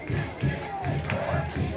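Crowd at a Snow College football game in Ephraim, late in the fourth quarter of a close contest, a loud, continuous murmur of cheering and shouts with a voice talking over it.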